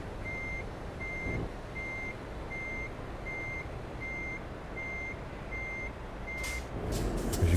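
Reversing lorry in Euro Truck Simulator 2 sounds a steady run of about ten evenly spaced electronic beeps over a low engine rumble, with brief hissing bursts toward the end.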